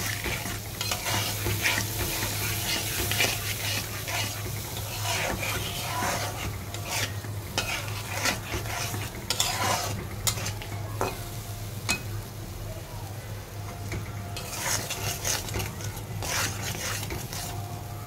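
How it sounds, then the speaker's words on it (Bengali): Spice paste with salt and turmeric stir-fried in a pan for a bottle gourd dish, with continuous close sizzling and repeated rhythmic scraping and rubbing of the utensil against the pan throughout. "লবণ দিয়ে দিচ্ছি স্বাদ মতন, হলুদের গুঁড়া গুলো একসাথে মিক্স করে এখন আমি কষিয়ে নিব এটা ভালো মতো"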